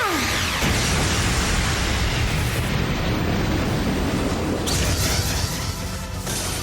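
Mech weapons firing and explosions during an Arcadius gear battle in Trails of Cold Steel 3, a loud dense barrage of bursts and booming blasts with rushing noise, sustained throughout and alone.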